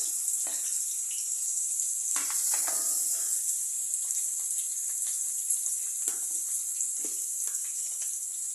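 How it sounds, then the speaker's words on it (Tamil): Green chillies, onions and curry leaves fry in hot oil, a steady bright sizzle running throughout with occasional sharper crackles and spatters as pieces hit the pan, close and continuous with no talking. "மூணு பச்சை மிளகா போட்டுக்கலாம் ரெண்டு வெங்காயம் போட்டுக்கலாம் நல்லா ஃப்ரை பண்ணிக்கலாம் கருவேப்பிலை போட்டுக்கோங்க"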